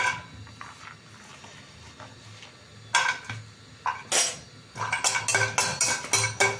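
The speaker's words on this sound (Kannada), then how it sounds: "ಒಣಕೊಬ್ಬರಿ ಹಾಕ್ಕೊಳ್ತಾ ಇದ್ದೀನಿ" Dried coconut pieces tumble into a pan for dry roasting alongside cinnamon bark, with sharp clinks and scrapes of a metal spoon against the pan growing busier toward the end.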